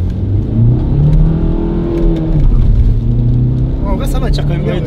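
A stage 1 tuned TDI diesel car accelerates with a loud, close engine drone rising through the revs, heard from inside with people talking over it.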